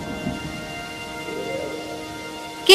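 Heavy cartoon rain pours as a steady broadband hiss for nearly three seconds, with a faint rumble underneath, then a sudden loud crackling burst like a thunderclap at the very end.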